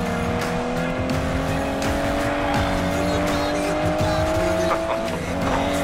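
An Aston Martin DB11 races through Need for Speed, its engine revving loudly with rising and falling pitch while tires squeal and skid repeatedly, close and intense, with faint voices mixed underneath.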